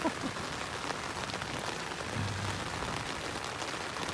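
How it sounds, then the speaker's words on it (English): Rain patters steadily on a backpacking tent along the Berg Lake trail, a dense close hiss of drops on fabric with no talk. "I kind of like hearing the rain on my tent."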